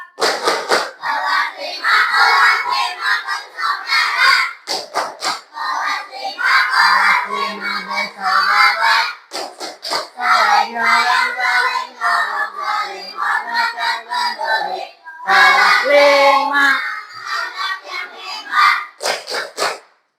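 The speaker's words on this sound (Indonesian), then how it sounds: "Mari kita tepuk anak hebat." A classroom of children performs a rhythmic clapping chant in Indonesian, with bursts of sharp, loud group claps alternating with shouted, cheering voices and brief pauses between rounds.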